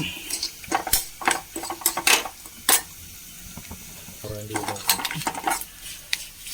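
Grated coconut roasting in a pan for a Kerala erissery curry, with a spoon scraping and stirring in bursts of clinks and scrapes over a faint sizzle, close by and with no talk.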